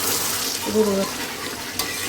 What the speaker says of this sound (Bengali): মাংস পুরো কষে গেছে